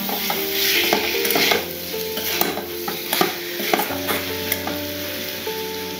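Pre-fried cauliflower is stirred in a hot pan under a bright, continuous sizzle. Spoon scrapes and clinks against the metal come irregularly and close by, along with a faint steady hum in the background.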